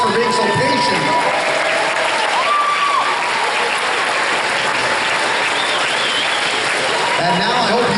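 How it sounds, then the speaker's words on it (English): A large crowd applauds at the 2014 BC Lacrosse Midget Championships recognition ceremony, producing a dense, loud, steady wash of clapping that fills the hall for several seconds with some voices mixed in. "Give yourselves a big round of applause for being so patient."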